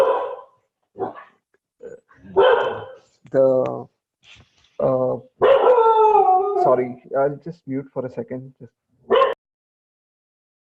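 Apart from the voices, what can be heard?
dog barking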